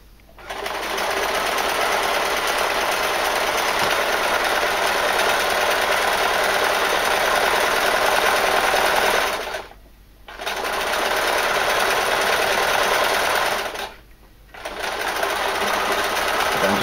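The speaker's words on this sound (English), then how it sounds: "somebody put something through a sewing machine is quite boring" A sewing machine stitches a trouser belt in long, steady, fast runs of close, even whirring, stopping twice briefly before starting again.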